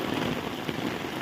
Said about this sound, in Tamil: மழை சரியான மழைங்க.